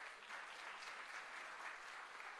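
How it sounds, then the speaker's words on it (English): An audience at an evening community arts event applauds steadily, a continuous even wash of many hands clapping throughout, with no voices standing out. "Give yourselves a round of applause."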